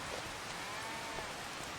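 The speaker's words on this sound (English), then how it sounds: "it should be stopping raining any minute now" Steady rain falls in Farming Simulator 25, a dense even hiss of drops on surfaces that holds unchanged and fairly soft, with no voices.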